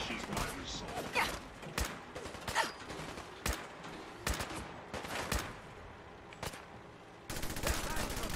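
Rapid bursts of gunfire crack through a combat sequence in the video game Fallout 4, with repeated sharp shots and volleys over a busy game soundscape and some talk.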